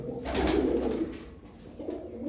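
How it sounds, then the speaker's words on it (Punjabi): Low, soft cooing of large flying pigeons in a continuous murmur, strongest early then easing off, with a faint hiss behind it. "ਇਹ ਸਾਰੇ ਆਪਣੇ ਵੱਡੇ ਕਬੂਤਰ ਆ"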